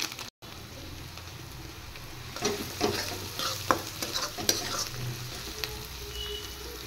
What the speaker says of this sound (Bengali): এবার একসাথে ভালো করে আবার ফ্রাই করে নেব।